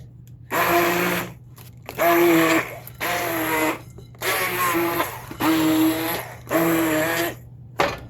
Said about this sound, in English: I don't know how well stick blenders work for this, but it's what I have.